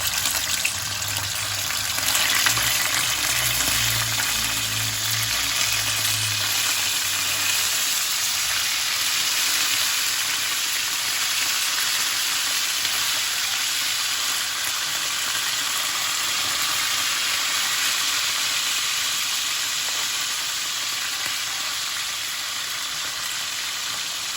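Fish frying in hot oil in a pan, a steady broadband sizzle holding at one level throughout, with a low rumble early on and no talking.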